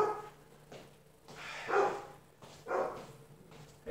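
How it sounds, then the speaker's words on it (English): An indoor dog barks in a few separate, fairly loud bursts, each spaced about a second apart, against a quiet room with a low hum. "My dog is acting up."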